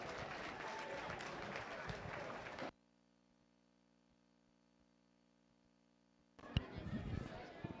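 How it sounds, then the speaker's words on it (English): Audience at a 4-H market hog show at a county fair breaks into hearty applause, which stops abruptly into a near-silent pause with a faint hum before a second burst of clapping starts up. "Let's give all those exhibitors a big round of applause."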